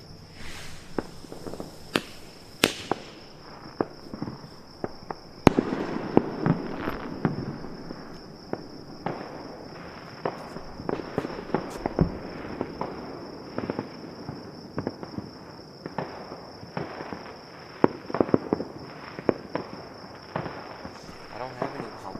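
Fireworks going off outdoors: scattered crackling pops and sharp bangs at an irregular pace for over twenty seconds, over a steady high insect-like whine.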